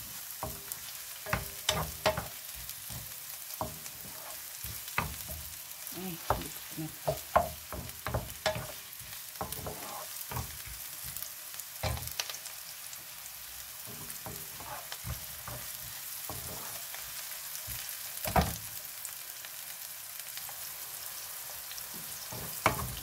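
Onion, sliced mushrooms and celery fry for a vegetarian pansit, a soft steady sizzle broken by repeated scraping and clanking stirs in the pan, with no talking.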